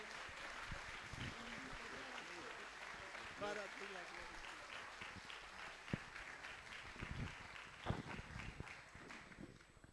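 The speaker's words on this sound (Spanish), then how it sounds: "Lo recibimos con un fuerte aplauso." A church congregation at an evening worship service claps for a visiting apostle, a moderate, somewhat distant wash of applause mixed with voices, shouts and scattered sharper claps throughout.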